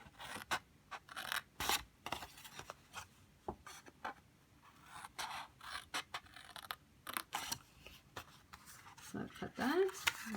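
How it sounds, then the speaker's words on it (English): A blade cutting four lines into a handmade Memorydex box, heard as a string of short, quiet scraping strokes close by, irregularly spaced with brief pauses between them. "now all I'm gonna do is cut these 4 lines"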